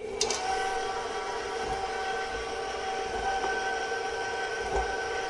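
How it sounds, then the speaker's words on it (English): An electric mixer runs on low speed while combining Earl Grey shortbread dough, a steady humming whir with faint rhythmic knocks, fairly close and unbroken, with no talking. "So we're going to turn this mixer on low."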